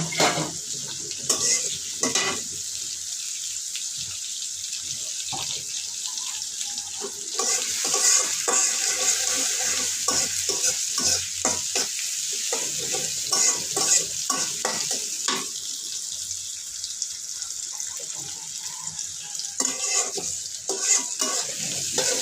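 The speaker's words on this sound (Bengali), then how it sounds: "পেঁয়াজটা আমি বেরেস্তার মতো করে ভাজবো, একদম বেরেস্তাই করবো আর কি।" Sliced onions fry in hot oil until crisp like birista, a constant close sizzle broken by repeated clattering stirs and scrapes of a utensil against the pan.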